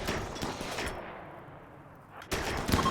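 SMG gunfire in the RimWorld colony game, bursts of rapid shots in the first second, a lull, then another burst near the end, with busy game noise around.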